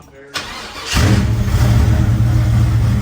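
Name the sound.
supercharged Corvette engine starting and revving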